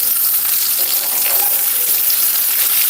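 Okra (lady's finger) frying in a pan for a cabbage stir-fry meal, giving a steady, close hiss of sizzling oil with soft bubbling crackles throughout and no talk.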